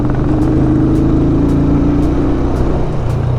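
A motor vehicle rides off-road through a rubber plantation among arecanut plants, its steady mid-pitched engine drone running loud and close throughout with a few faint rattles and no talk.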